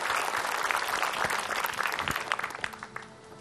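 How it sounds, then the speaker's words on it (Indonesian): Studio audience at an Indonesian Ramadan television show breaking into dense, loud applause that swells, then thins out and fades toward the end. "Tepuk tangan dong buat Ustadz Maulana"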